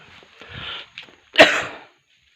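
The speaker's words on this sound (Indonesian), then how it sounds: "saya lagi sedang kondisi batuk" A man with a cough lets out one sharp, forceful cough at close range after some soft rustling and breathy sounds, then quiet follows.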